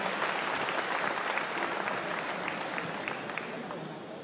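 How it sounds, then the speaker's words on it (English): A crowd at a city State of the City address gives steady, dense applause that holds evenly and tapers slightly toward the end. "Can we give a round of applause to Governor Branzuela?"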